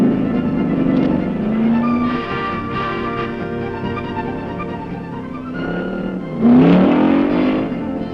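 A 1965 Pikes Peak race car launches up the hill course, its engine revving and climbing in pitch, with a sharp louder surge as it pulls away.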